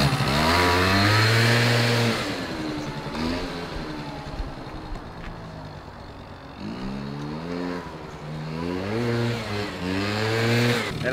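Motorcycle engine revving hard during wheelie stunts, loud and close, with rising and falling pitch sweeps as the throttle opens and closes repeatedly, dipping briefly in the middle before surging again.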